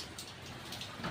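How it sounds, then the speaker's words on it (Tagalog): Heavy rain pouring down outdoors, a dense, loud, continuous wash of noise with no pauses, close and enveloping. "Oh, ang lakas ng ulan."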